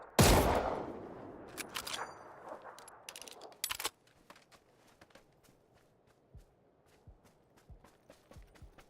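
A quick burst of PUBG gunfire at the start, then a few scattered shots and faint footsteps-like clicks continuing quietly afterward.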